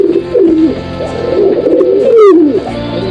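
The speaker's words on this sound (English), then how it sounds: "pigeon," A pigeon coos up close, loud, in a continuous, rolling, throaty warble lasting a few seconds, with a brief higher chirp near the end.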